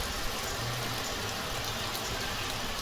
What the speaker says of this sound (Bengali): কি বৃষ্টি হচ্ছে বন্ধুরা,